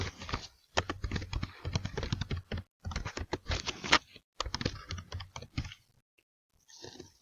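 Fast, steady typing on a computer keyboard while entering an address at a reception desk, with bursts of close key clicks separated by short pauses and a brief break near the end.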